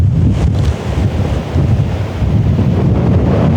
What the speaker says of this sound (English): it's contained with the wind shooting down the valley